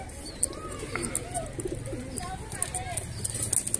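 Highflyer pigeons offered for sale coo and chirp softly in a loft in Andheri West, the calls scattered over a steady low hum while someone speaks nearby.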